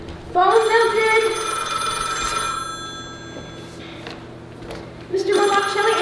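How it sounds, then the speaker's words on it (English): An old-style telephone bell rings in two bursts, a long loud metallic trill followed by a pause and then a second ring starting, with faint room noise between rings. "Mr. Morlock, shall I answer the phone?"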